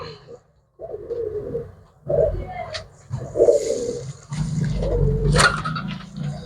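Pigeons offered for sale coo repeatedly at close range, with low throaty phrases in a loose rhythm and a brief sharper sound near the end.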